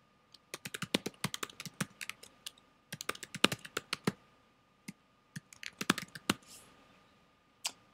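Keys clatter on a computer keyboard in quick irregular bursts of clicks with short pauses, close and fairly quiet, while credentials are entered at a desk.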